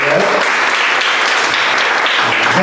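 Audience applause at a youth interfaith group gathering, a dense, steady clapping from a crowd that holds at even loudness throughout, with faint voices beneath.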